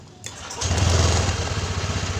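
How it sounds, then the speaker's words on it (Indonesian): A Honda Vario 150 scooter is started with its starter button: a short whir of the starter gives way to the engine catching, then a steady, close, pulsing idle. "Setelah hijau ini kita tekan tombol starternya."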